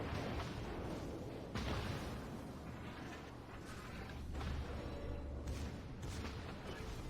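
A warship's secondary guns fire in World of Warships at an enemy destroyer, producing a steady dull rumble of distant cannon bursts under continuous engine and sea noise.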